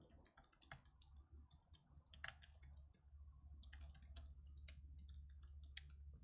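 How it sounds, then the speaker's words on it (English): Mouse clicks and rapid computer keyboard typing during a coding session, a quiet, irregular patter of sharp keystrokes and clicks with no voice over it. "my clicking is pretty bad today"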